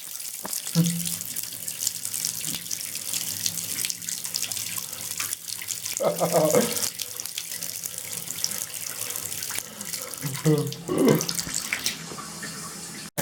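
Tap water runs steadily into a sink after a water main failure, a continuous hissing gush broken by bursts of gurgling and sputtering, with brief voices under it.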